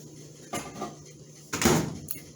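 Dishes and the door of an old, rusty microwave are handled while barbecue sauce heats, giving two brief clattering knocks about a second apart with quiet room tone between.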